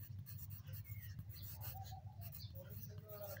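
A pen scratches out numbers on paper during a class 2 maths lesson, with soft, quick, close strokes running continuously over a low background hum.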